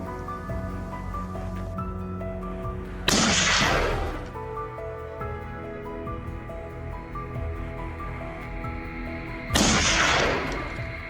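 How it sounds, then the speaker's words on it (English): Two sharp, loud gunshots about six seconds apart finish off a wild boar on a mountainside hunt, each a sudden broadband crack with a short ringing decay, set against a steady background hum. "all Travis had to do was fire a decisive shot to finish it off"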